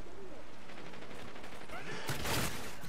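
Gunfire in the Call of Duty: Ghosts video game, Domination mode: a sharp, loud burst of shots near the end, after a quieter stretch of faint game ambience.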